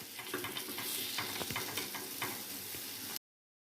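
Sweet paniyaram frying in a paniyaram pan as the dumplings are turned, with a steady oil sizzle and small scraping, stirring clicks, close and continuous with no talking.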